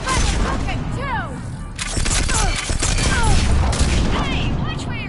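Gunfire from the video game Mass Effect 3 crackles in dense bursts and booms through a loud battle mix, continuous for several seconds, layered with shouting voices and combat effects.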